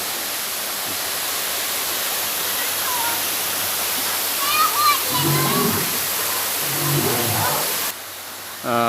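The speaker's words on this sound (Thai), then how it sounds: "อันนี้เป็นน้ำตกนะครับ" A waterfall at a tourist spot gives a constant loud rushing roar, while someone talks over it partway through and the roar drops near the end.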